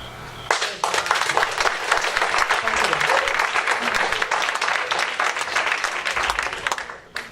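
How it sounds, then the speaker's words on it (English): An audience at a 2017 New Providence candidates' debate breaks into sustained applause for a candidate, a dense crackle of many hands that starts abruptly, holds steady for several seconds, then tapers off with a few scattered claps. "the extended clapping is going to take a little bit longer to get through the questions"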